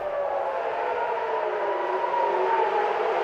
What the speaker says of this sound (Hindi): तेल अवीव में रात भर बजे अलर्ट सायरन